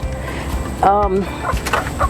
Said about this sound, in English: I do have a guinea fowl.